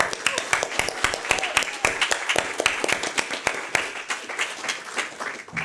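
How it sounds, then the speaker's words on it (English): Audience applause at a Senior NCO induction ceremony at Lajes Field in the Azores, honouring five inductees: a dense, steady wash of many hands clapping that holds for the whole stretch without pause. "Let's give them a round of applause."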